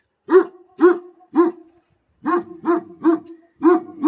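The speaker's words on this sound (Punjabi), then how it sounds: "ਆ ਦੋ ਡੌਗ ਰੱਖੇ ਜੀ ਬੜੇ ਜ਼ਬਰਦਸਤ ਜੇ" Two guard dogs bark at a farmhouse gate, a series of eight sharp, loud barks in two bursts separated by a short pause, with nothing else audible.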